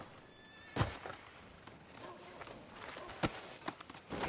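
Horse hooves and movement in Red Dead Redemption 2, a few soft, irregular thuds and scuffs at moderate distance over a quiet background.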